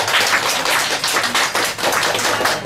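Group applause during a Rotary International visit to a master ceramicist's pottery studio, a brisk, dense burst of clapping from a close crowd lasting a few seconds without talk.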